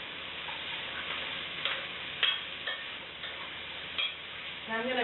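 Carrots get stirred in oil in a pot, producing soft scraping and light clicks under a faint, steady sizzle, quiet and close.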